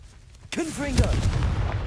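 A Confringo fire spell goes off in Hogwarts Legacy: a sharp blast followed by a sustained roaring burn, with a voice shouting over the start.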